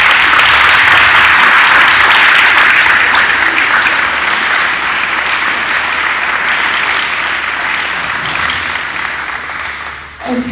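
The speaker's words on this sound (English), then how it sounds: "Let's give them another round of applause." A ceremony audience gives a loud, sustained round of applause for Academic Signing Day scholarship signers, steady and dense for about ten seconds before tapering off at the end.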